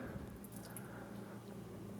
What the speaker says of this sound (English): I'm pouring the first solution